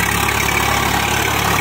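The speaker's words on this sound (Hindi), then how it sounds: "देखिए ट्रैक्टर धस रहा है" A tractor engine idles steadily in a waterlogged field, loud and close, a continuous broadband rumble with no clear revving and no talking.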